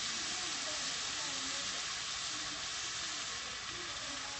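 Thin cut sirloin frying in a pan, a steady close hiss and sizzle that runs unbroken and fairly faint throughout, with a low bubbling texture underneath.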